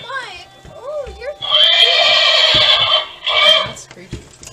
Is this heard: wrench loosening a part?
no